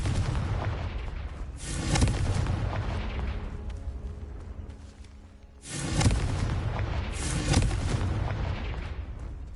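In the Hogwarts Legacy video game, the Confringo explosion spell bursts in two heavy booming blasts several seconds apart, each followed by a rumbling decay, with no voices over it.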